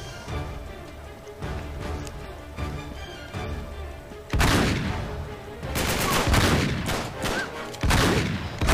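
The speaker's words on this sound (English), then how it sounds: "And then I'm shooting without looking down the sights, which you can do with the shotgun" Shotgun gunfire in the Uncharted 3 video game, several loud booming blasts in the second half with a rapid cluster of shots, following a quieter stretch of lighter distant fire.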